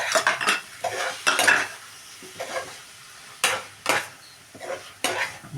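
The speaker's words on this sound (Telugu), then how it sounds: "బాగా తిప్పుకొని మూత పెట్టేసుకోండి" Prawn curry with garam masala stirred in a pot, bursts of scraping spoon and clinking metal against the pan repeating in irregular strokes over a low sizzle, close and loud.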